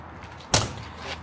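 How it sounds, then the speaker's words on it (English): An aluminum slam-latch storage compartment door on a pre-owned RV shuts with a single sharp metallic slam, close and loud against a quiet background. "these awesome aluminum slam latch doors"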